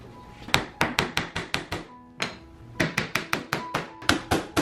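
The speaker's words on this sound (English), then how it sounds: "That's the nail punch." A hammer drives a nail punch to set nails into pre-drilled wooden closet molding. The close, crisp taps come in quick regular runs of about a dozen strikes, with one brief pause midway.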